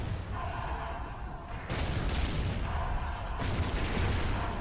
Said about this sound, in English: The explosions are way too loud.